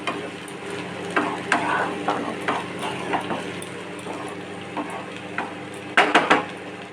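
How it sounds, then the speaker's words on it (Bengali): Water is poured into a steel pot of fried spices with drumstick, potato and eggplant, giving a steady sizzle broken by scattered metallic clinks and scrapes of stirring, with a sharper cluster of clatter near the end. "মশলার মধ্যে জল দিয়ে দিয়েছি ফুটতে দিয়েছি"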